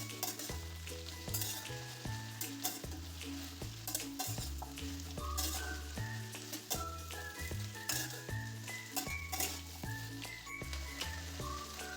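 Mixed chopped vegetables stir-fried in hot oil for a Bengali mixed veg curry with data shak, a steady loud sizzle with scraping stirs and light clinks throughout, no voices.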